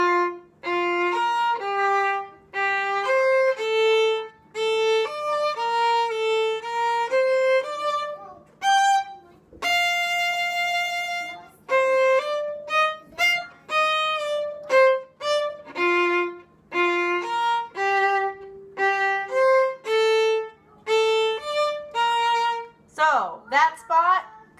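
Drill passage from the Gavotte from Mignon, measures 37 to 43, played as a quick run of clear, detached melodic notes with short pauses between phrases, close and alone.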